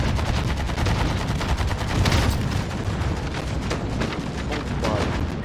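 An AK-47 fires in loud, sustained bursts during a Warzone match, the sharp reports dense and close with booming impacts mixed in.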